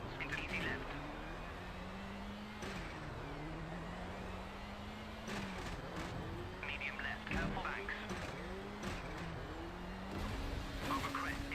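A rally car engine in the Rallisport Challenge video game, on the Safari Classic stage, whining and rising through the gears in repeated cycles as it revs and shifts, with someone talking over it.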